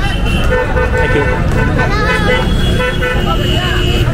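A tuk-tuk horn toots on a busy street in Agra, India, its short bright honks rising over steady traffic rumble and nearby voices talking.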